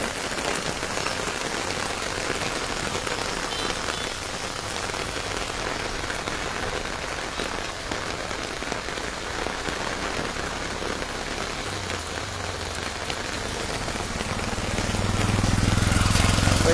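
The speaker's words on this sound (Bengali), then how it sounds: "একটু আগেও যে পরিমাণ বৃষ্টিপাত ছিল তার চেয়ে বৃষ্টির পরিমাণও বেড়ে গেছে" Heavy rain pours down during a hill flash flood, a dense, constant roar of drops on surfaces that swells louder near the end.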